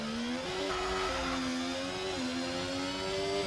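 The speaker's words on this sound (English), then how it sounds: "That Ferrari sounds like a go-kart" A Ferrari Formula 1 car engine in a racing video game at Monza drones at high revs with a steady tone that steps up and down through gear changes, continuous and fairly loud, with no talking.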